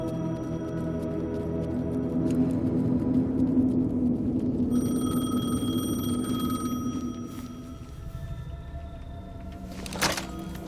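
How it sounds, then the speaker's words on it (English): A payphone rings in the Alan Wake 2 video game, its electronic tones sounding midway over a low, droning ambient background, followed by a brief thump near the end. "payphone was ringing."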